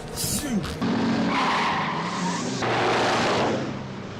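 Car engine revving loudly as it accelerates to overtake another car in a 1970s Louis de Funès comedy film scene, with tire skidding and squealing, close and continuous, under talk.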